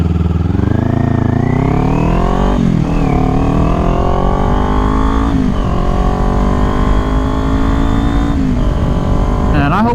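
Kawasaki Ninja 400 motorcycle ridden on a road, its engine droning loudly and steadily with repeated rising revs through the gears, wind rushing beneath throughout.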